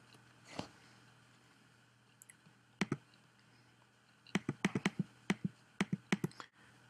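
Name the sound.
typing on a computer keyboard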